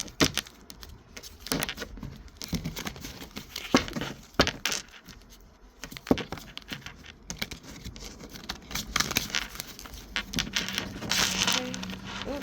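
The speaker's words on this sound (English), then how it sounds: "So I'm gonna shuffle this up." Tarot cards being shuffled by hand, a run of soft papery riffles and taps, close and fairly quiet, with short pauses between bursts.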